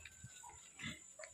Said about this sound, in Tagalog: Trichantera, papakain natin sa ating mga alagang baboy.